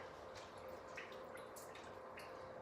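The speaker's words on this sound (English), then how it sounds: "I'm just squeezing all the water out of my spinach, little handfuls at a time." Water is squeezed out of spinach by the handful through a strainer in a kitchen: soft, steady dripping and trickling, faint and continuous throughout, with no talking.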